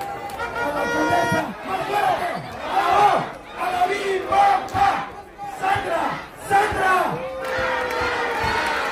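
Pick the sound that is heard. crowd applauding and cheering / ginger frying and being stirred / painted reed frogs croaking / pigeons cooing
crowd applauding and cheering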